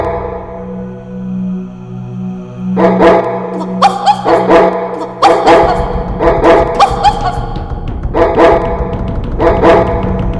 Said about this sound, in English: The 3 dogs appeared before him.